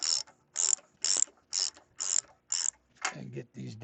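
A DeWalt drill driving fasteners down into a driveway repair gives a run of evenly spaced ratcheting bursts, about seven in quick rhythm, followed by a couple of lower, grinding pulses.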